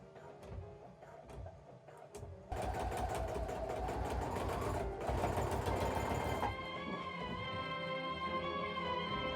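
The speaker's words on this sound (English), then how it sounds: "Because I was sewing over pins." A domestic sewing machine stitches a replacement zip into a ski jacket, starting with a few separate clicks before breaking into a fast, loud mechanical whirr, pausing briefly, then running on more steadily.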